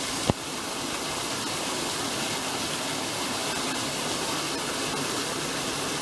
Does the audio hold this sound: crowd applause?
no